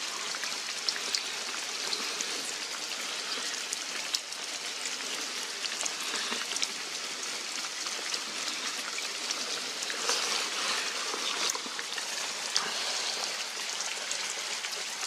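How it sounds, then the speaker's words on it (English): Steady rain pattering on surfaces, a continuous dense hiss with scattered droplet ticks, close and fairly loud, no voices. "Still raining"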